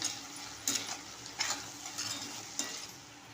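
Gavar and potato bhaji with salt and onion being stirred in a pan, a soft sizzle under a few distinct scraping strokes of a spoon, quiet and close.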